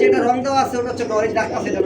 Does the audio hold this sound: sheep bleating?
no